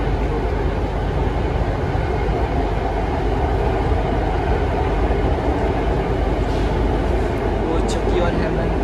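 Steady low rumble of a Mumbai Metro train heard from inside the carriage while riding, a dense continuous drone of wheels and motors with faint higher hiss throughout.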